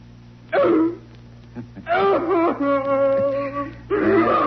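A man imitates a dog, letting out several loud, strained barks and whining yelps in uneven bursts, close to the listener.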